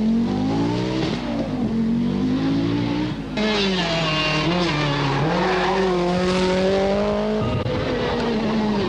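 Michèle Mouton's Audi Quattro rally car on a first stage of the 1983 Tour de Corse, its engine troubled, roars continuously with rising and falling revs and gear changes, loud and close throughout.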